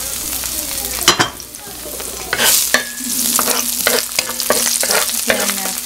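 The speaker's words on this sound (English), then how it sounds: "I'm gonna fry the garlic." Chopped garlic frying in hot oil in a pan, a close continuous sizzle punctuated by sharp spatula scrapes and stirring clatters.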